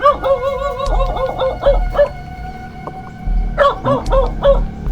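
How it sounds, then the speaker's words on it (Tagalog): A dog barks in short repeated bursts, fairly close, with pauses between volleys and a low background rumble. "Merong asong tumatahol."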